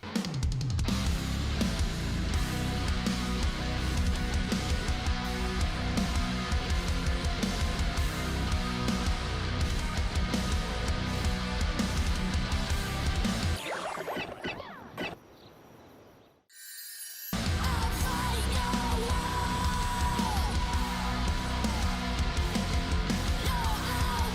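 Dense, energetic video game theme music for the character Rell plays loudly, drops out briefly to near silence near the end, then kicks back in at full volume.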